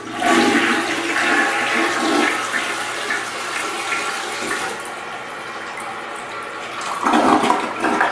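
A toilet unclogged with a plunger is flushed: a loud, close rush of swirling water drains away, then settles into a quieter refilling hiss before surging briefly again.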